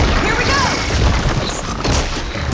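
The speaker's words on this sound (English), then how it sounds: "Hey, big explosion! Watch out!" A big explosion booms in Horizon Forbidden West: Burning Shores, a loud, close blast with crashing, rumbling debris that rolls on through the whole stretch, with a voice calling out over it.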